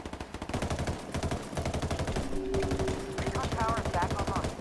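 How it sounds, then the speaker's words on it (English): In Ghost Recon Wildlands, rapid automatic gunfire shoots through a wall in a steady, dense stream of cracks that runs nonstop through the whole stretch, with game effects layered underneath. "And shoot through the wall."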